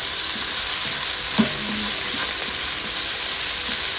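Garlic paste, green chili paste and green chillies fry in hot oil with a loud, even sizzle close by. One brief clunk rises from the pan partway through, and no one speaks.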